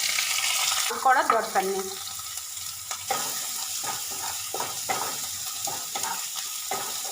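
Finely chopped medium onion fries with mustard seeds and curry leaves in hot oil, a steady sizzle broken by spoon scrapes and clinks against the pan, with a short spoken remark early on.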